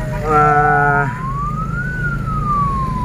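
Escort team sirens sound loudly and close while clearing the way for an ambulance at night, a wailing tone that sweeps up and down after an opening rapid yelp.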